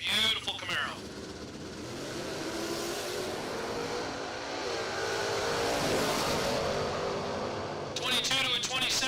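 A Camaro drag racing down the track at a bracket racing event, heard as a loud continuous engine roar that holds steady across the run, with brief voices at the start and end.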